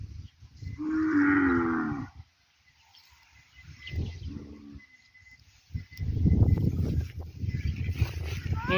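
Cattle mooing at a farm with white cows and a water pond for buffalo, a long loud low moo near the start, then a shorter call amid rustling, followed by dense louder noise and some voices.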